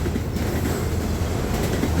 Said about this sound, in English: The SD40-2s on this train are almost as old as 40.